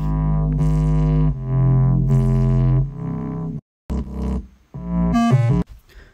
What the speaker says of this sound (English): On top of that, we have a very distorted sub bass